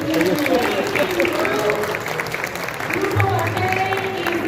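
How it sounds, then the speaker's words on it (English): Clapping from a crowd at a Dominican Independence celebration in Queens, New York, as a steady dense wash that stays loud the whole way, with a voice and crowd murmur mixed in. "Another round of applause for the"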